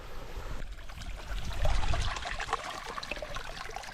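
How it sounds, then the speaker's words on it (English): Small stream running through the woods, a close gurgling trickle with a brief swell of heavier rushing water in the middle. "it sounds like there's a good little stream down here"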